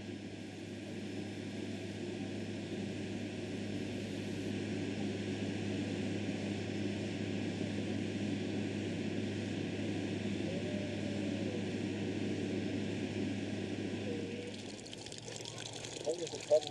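A Qantas Airlink plane on a flight from Sydney arrives at Broome, Australia, in 1997, its engines making a steady, loud drone that holds for most of the stretch before dropping away near the end.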